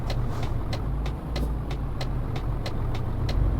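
Truck driving in Euro Truck Simulator 2, a steady low engine drone and road rumble with a regular ticking, like an indicator, repeating about every quarter second throughout.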